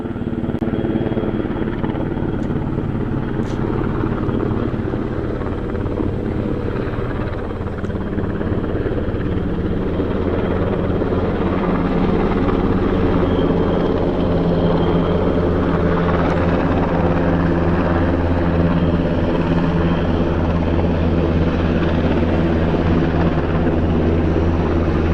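An old World War II era plane droning low and steady overhead as it comes in to land near an old fort in Finland, a continuous loud rumbling engine with no break for the whole stretch.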